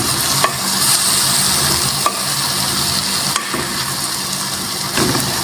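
Crushed garlic being stirred in a hot frying pan: continuous close sizzle broken by a few sharp scrapes of a spoon against the pan at irregular intervals, with no talking.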